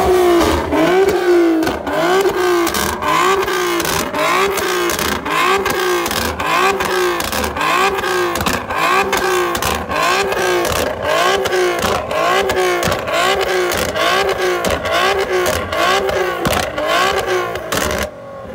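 A Nissan 370Z at a car meet revs hard over and over, a loud close engine roar rising and falling in a fast steady rhythm of about twenty blips, continuous and dominant throughout.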